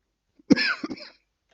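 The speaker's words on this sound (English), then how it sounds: "Sorry, we're coughing." A short burst of coughing indoors, one or two people hacking a couple of times in quick succession, fairly close and alone, then quiet.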